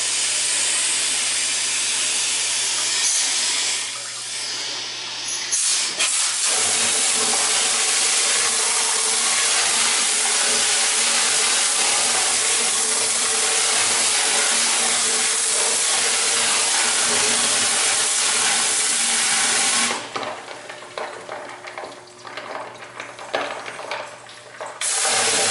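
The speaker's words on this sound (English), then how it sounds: "We'll hit it with the hose." A hose sprays water into a sewage lift pump pit, a loud continuous hiss and splash that holds steady, with brief changes in the spray near the start and end.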